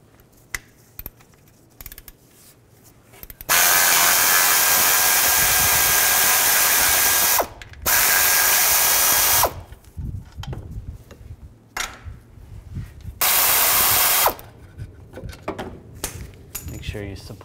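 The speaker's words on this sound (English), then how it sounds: "Now we're going to take a star socket, an E8, and we're going to take these studs out." An E8 star socket on a power tool removing exhaust studs from a 2008-2012 Ford Escape, several loud sustained whirring bursts of a few seconds each, separated by quieter clicks and handling noise.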